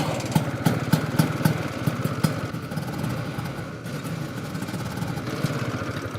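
A cold Ski-Doo Elan snowmobile engine catches after a pull start and runs roughly, a close, uneven mid-pitched putter that sputters and knocks at first, then settles into a steadier idle.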